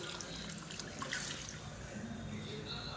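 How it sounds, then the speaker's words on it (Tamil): Water poured into a pot of tiffin sambar with mashed lentils already added, a soft steady splashing and trickling up close amid kitchen background noise. "இப்போ சாம்பாருக்கு தேவையான தண்ணி சேர்த்துக்கலாம்."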